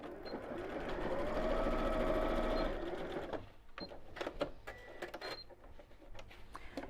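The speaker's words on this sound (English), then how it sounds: "I'll sew across about 1 inch from the end." A sewing machine runs steadily for a few seconds, stitching across the base seam of a fabric bag with a bamboo handle, then stops, leaving light handling clicks and rustles.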